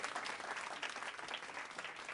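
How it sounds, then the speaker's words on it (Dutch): Audience applause for a pianist after a music performance, a steady dense clapping wash at moderate level lasting the whole stretch with no talk over it. "En die krijgt dan ook een ovationeel applaus."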